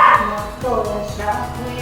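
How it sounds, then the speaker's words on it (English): A dog at a pet spa during grooming gives a few close, short barks and yips mixed with whimpering, while people talk nearby. "He's barking now."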